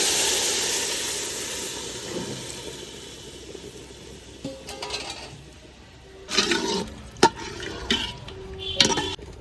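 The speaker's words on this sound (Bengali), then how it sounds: "যে জলটা আমি ফুটিয়ে নিয়েছিলাম সেটা এখন হাঁড়িতে দিয়ে দিচ্ছি।" Previously boiled water is poured into a hot pot of rice being fried with a few poppy seeds, setting off a broad steamy hiss that fades, followed by several sharp sizzling bursts and clatters near the end.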